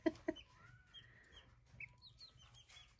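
Chickens in a barn-stall coop cluck twice, close and sharp, at the very start, then softer chirps and peeps carry on at a low level through the rest.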